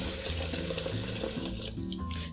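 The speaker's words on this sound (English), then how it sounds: "I'm going to fill up the basin and do another rinse just to make sure all of the suds is out" Tap water runs into a sink basin being filled for rinsing a wig with a silicone insert, a steady splashing gush with shifting gurgling pitch as the water level rises, close and alone.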